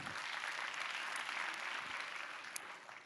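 Sustained applause from a live keynote audience at a conference show fills the room, a dense steady patter of many hands clapping throughout, with no voices above it.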